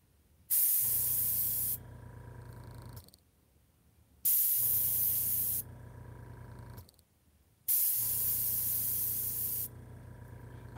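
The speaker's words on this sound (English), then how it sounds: "So I'm just going to squirt some down and spray it." An air gun sprays paint in three long bursts of loud steady hiss, each dropping to a softer hiss before stopping, with short quiet gaps between bursts and no talking.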